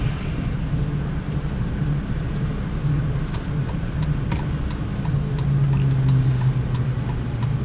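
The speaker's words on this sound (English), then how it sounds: "It's definitely coming from the rear end. And you'll hear it when you get on the gas." A 2007 Ram truck with a worn Chrysler 9.25 rear differential under acceleration gives a steady low drone and whine over road and engine noise, rising slightly toward the end, with faint ticking.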